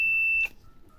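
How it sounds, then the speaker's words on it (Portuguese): A multimeter on its continuity setting, used while testing a component in a switching power supply, gives one steady high-pitched beep lasting about half a second, which then cuts off into quiet room tone. "se você vai lá na escala de continuidade, mede ele aqui, e ele não dá esse bip aqui"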